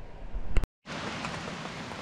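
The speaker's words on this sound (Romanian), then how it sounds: "a venit ploaia." Heavy rain pouring during a strong mountain storm, a dense, steady roar of falling water that cuts out abruptly for a moment and then resumes just as thick.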